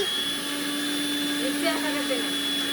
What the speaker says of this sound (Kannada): ಮಿಕ್ಸಿ ತವಾಜ್ ಬರ್ಬೋದು ನಿಮ್ಗೆ